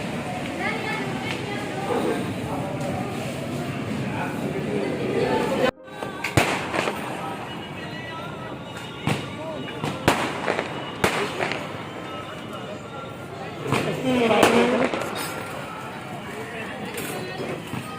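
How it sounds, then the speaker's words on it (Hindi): Fireworks bursting at an outdoor wedding celebration, a series of sharp pops and bangs scattered over a steady din of crowd noise and music, with people talking throughout. "हमारे आते ही आप लोग देख रहे हैं जैसा कि आतिशबाजी शुरू हो चुकी थी"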